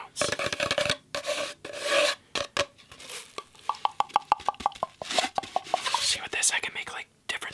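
A paper towel roll handled up close for ASMR, with soft rubbing, scratchy rasping and a run of quick hollow taps and plops in uneven bursts, quiet and intimate with no speech.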